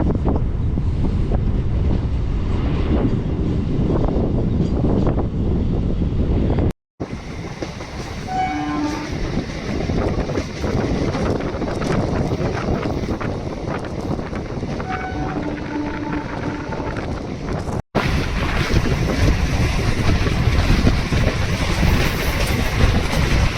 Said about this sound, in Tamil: ஸோ இப்போ தான் வந்து கிணத்துக்கடை ஜங்ஷன் வந்து கிளம்புது.